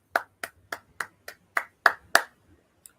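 A single pair of hands claps eight sharp, close claps at an uneven, slightly quickening pace, followed by one faint tap after a pause.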